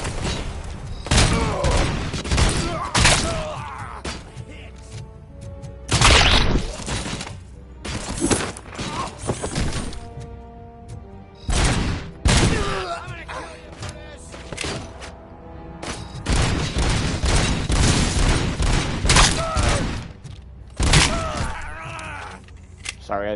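Gunfire in RoboCop: Rogue City comes in loud, sharp bursts and rapid volleys spread over a long firefight, with thuds and impacts between them and voices talking over parts of the action.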